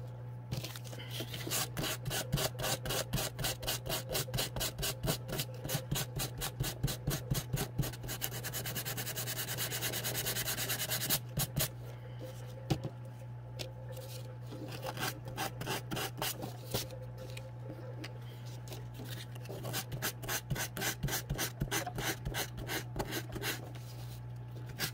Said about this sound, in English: now you can just take that and you can just lightly sand it